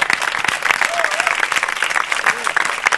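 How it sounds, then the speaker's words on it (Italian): An audience at a gospel choir event applauds steadily throughout, a dense even wash of clapping at moderate loudness. "vorrei un grosso applauso per il grosso e per il grande evento"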